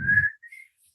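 A person whistles a short, high note that slides down, then gives a brief second faint tone, with a soft breathy puff at the start.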